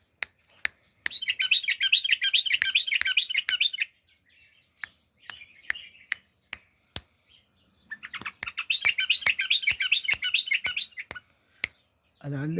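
A bulbul sings close by in bursts of bright, rapid chirping, with sharp clicks spaced between the phrases.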